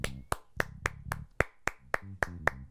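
Steady, evenly spaced hand claps, about nine sharp strokes in under three seconds, close and crisp, with a low voiced tone humming underneath between the strokes.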